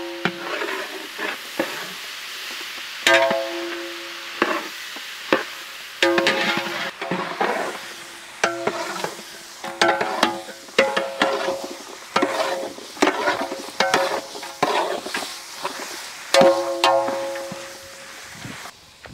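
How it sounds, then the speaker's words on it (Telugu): Mutton pieces fry in oil in a pot for a mutton cauliflower curry, a steady sizzle broken by repeated sharp scrapes and clanks of a ladle stirring against the metal, close and continuous over nearly twenty seconds. "మటన్ ముక్కలు నూనెలో చక్కగా వేగాక దీంట్లోనే మనం అల్లం వెల్లుల్లి పేస్ట్ యాడ్ చేద్దాం"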